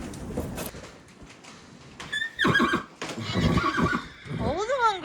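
A horse neighs loudly inside a barn, a long shaky whinny near the end after snorts and shuffling hooves, with a person speaking softly to the animal in between.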